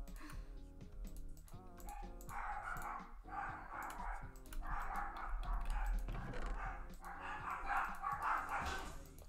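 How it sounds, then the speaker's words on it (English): Several dogs bark loudly and repeatedly indoors, with bursts of yipping running through the whole stretch and no speech over them. "My dogs are so loud."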